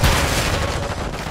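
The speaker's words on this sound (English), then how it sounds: "Taking effective fire!" Dense, loud gunfire from Call of Duty MWIII crackles in a rapid burst of overlapping shots, close and booming.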